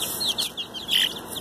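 Chickens cluck and chirp nearby in short, uneven bursts, with a few sharper calls standing out, including from a young rooster.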